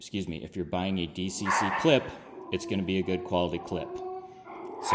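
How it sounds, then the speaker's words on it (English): A pet dog barks and whines in short bursts from across the room, wanting to be let out, under steady nearby talking that carries on throughout. "pardon my dog over there. She's wanting out."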